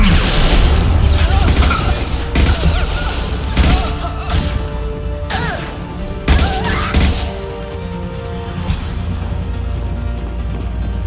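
Weapons fire in the Mass Effect 2 video game as a run of heavy, booming shots and crashing impacts, spaced irregularly and loud and close, with some quieter mechanical clatter between them.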